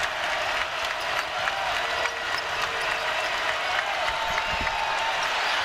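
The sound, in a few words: raucous basketball crowd cheering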